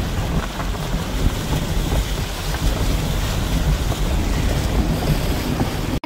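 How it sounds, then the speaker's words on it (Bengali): A car pushes through deep flood water on a submerged road, making a continuous loud rushing, sloshing roar like a boat's wake, steady and unbroken with no talk. "মনে হইতেছে পানির মধ্যে মোরা নৌকা চালাইতেছি"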